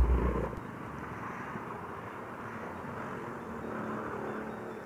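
A Mio i 125 scooter fitted with an aftermarket pipe, idling: a steady low exhaust rumble and purr, slightly louder at the very start, with no talking.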